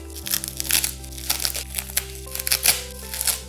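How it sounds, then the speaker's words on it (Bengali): Plastic packaging around DIY power bank parts crinkles and crackles as it is unpacked, in close, busy bursts over a low steady hum, with no voices. "এখন আমাদের কাজ হচ্ছে এই প্যাকেজিংটাকে আনপ্যাক করা"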